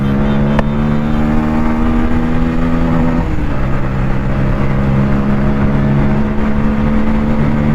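A Bajaj Pulsar N160 motorcycle engine with a stock exhaust runs loud and close, its steady throbbing note shifting pitch slightly as the throttle is blipped and held.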